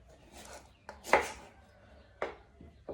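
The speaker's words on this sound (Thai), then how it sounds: "แล้วก็หั่นไปแบบนี้ค่ะ" A few sharp knife cuts through mango on a board, with one louder chop near the middle and quieter ones after, close up and without talk.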